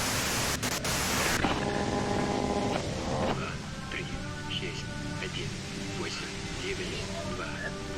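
Radio static in Disco Elysium, a dense hissing wash of white noise that cuts off abruptly partway through and gives way to a calmer stretch, with speech heard throughout.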